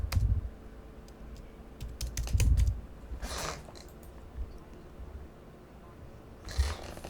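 Keystrokes on a computer keyboard come in short scattered bursts, with a few clustered clicks early on and a later flurry, fairly close and moderately loud over a low room hum.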